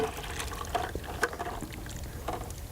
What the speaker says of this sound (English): we'll go ahead and pour it into the foil liner